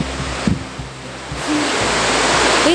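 Steady roar of the waterfall at Silver Falls on a hike, a broad even rush that swells louder halfway through, with a few footsteps or knocks early on.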